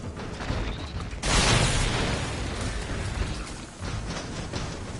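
A grenade in Resident Evil 3 goes off with a sudden loud burst and rumbling blast a second in. Dense, noisy game sound continues around it without speech.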